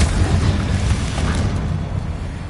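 A Confringo spell blast goes off in a Harry Potter video game, a loud booming explosion that rumbles and fades over a couple of seconds.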